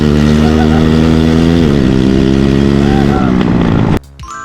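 A homemade pallet-built shifter go-kart engine runs with no exhaust fitted, a loud, raw, buzzing drone that steadies, dips in pitch, then cuts off abruptly near the end.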